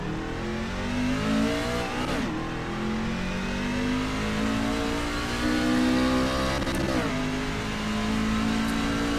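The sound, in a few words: race truck engine revving as it drives out, racing video game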